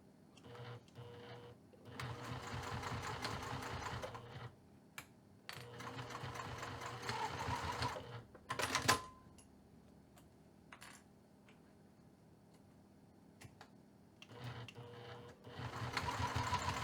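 A sewing machine stitches a ribbon bag strap 1/8 inch from the fabric edge with a slightly lengthened stitch, running in close bursts of rapid mechanical whirring separated by quiet pauses and a few clicks.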